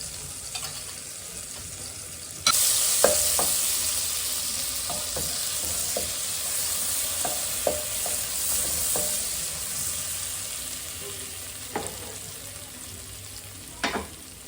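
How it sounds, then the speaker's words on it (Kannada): Butter and a spoon of oil fry in a pan, where a loud sizzle bursts in after a quieter start and then holds steady, broken by occasional sharp clinks and stirring taps. "ಅದಕ್ಕೆ ಫಸ್ಟ್ ಇದನ್ನು ಫ್ರೈ ಮಾಡ್ಕೊಂಡ್ಬಿಡೋಣ ಅಂತ"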